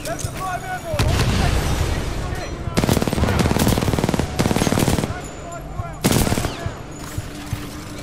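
Loud, close bursts of automatic gunfire and heavy booms from Titanfall 2 come in rapid volleys separated by brief gaps.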